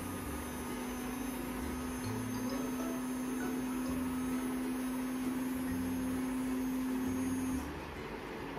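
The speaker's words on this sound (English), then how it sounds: "Okay, the pump is on now. You just heard the sound." A DC pump on a sanitizing robot runs with a steady, close electric hum for several seconds before cutting off, leaving only faint background noise.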